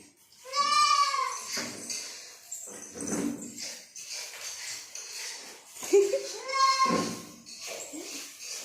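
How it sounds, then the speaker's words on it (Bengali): A baby goat bleats in short wavering cries, two clear calls near and fairly loud, with a voice and a voice talking softly around them. "সকালবেলায় ছাগল বাচ্চা ধরেছে।"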